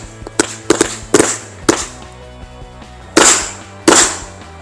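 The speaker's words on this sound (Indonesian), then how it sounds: "Kita tambahin lagi mercon cabai guys. Oke, berhasil menyala." A series of sharp chili firecracker pops set off in a hole in the ground, about seven close loud bangs in an irregular rhythm, some in quick pairs, with brief echoes between.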